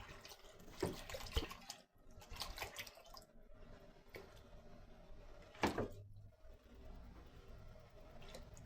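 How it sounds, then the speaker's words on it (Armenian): Water splashes and trickles into a pot over washed meat in short bursts, with a clatter midway and quiet pauses between pours. "Հիմա լվացած մսի վրա ավելացնում եմ ջուր և կդնեմ գազօջախին եփելու։"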